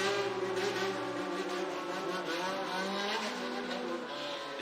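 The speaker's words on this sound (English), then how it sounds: "The men were needlessly gunning their engines and filling the air with explosive screaming." Motorcycle engines from a biker gang in the video game The Devil on G-String rev and scream continuously, a loud, layered roar with shifting pitches and no pauses.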